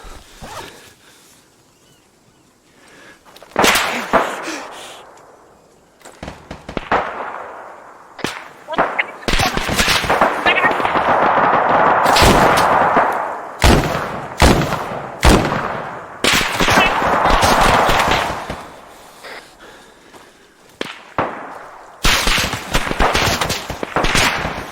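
Gunfire crackles in rapid bursts, loud and close, with long stretches of sustained automatic fire and short gaps of near silence between volleys.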